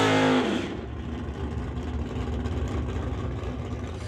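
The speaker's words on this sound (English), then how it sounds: "Camaro leads the way, gets to the finish line first" Camaro race car on a drag strip at a motorsports event roars past loudly at the start, then fades into a sustained distant engine drone.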